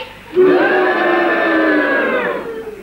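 A crowd cheers in a single sustained roar of many voices that swells quickly and holds for about two seconds before fading.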